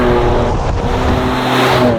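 A car drives laps on a test track in a fuel comparison between 91, 95 and 98 RON petrol, giving a loud, steady engine drone and road roar heard from close up.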